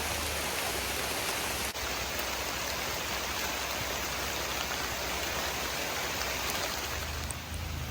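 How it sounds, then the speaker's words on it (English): Steady rain falling over a garden, a dense, even hiss of drops on surfaces that continues without pause, with no voices. "the rain has started."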